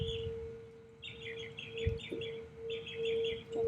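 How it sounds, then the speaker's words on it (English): Birds singing outdoors during a guided activation session, bright chirping phrases in short bursts over a steady low hum, fairly close and clear. "We have divine music playing along with us today with all the birds."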